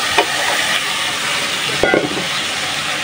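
Radish pieces drop into spice masala frying in a pan for a fish curry, a loud continuous sizzle with a couple of sharp bursts as the pieces go in and get stirred.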